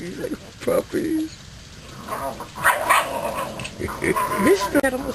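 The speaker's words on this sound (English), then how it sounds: "These are puppies." Several puppies yip and bark in short bursts among people talking nearby, with some clicking and clattering in the background.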